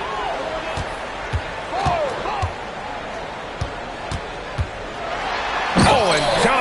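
A basketball game where the ball bounces in a regular dribbling rhythm on the court, ending in a louder slam near the close, heard under ongoing commentary and crowd noise.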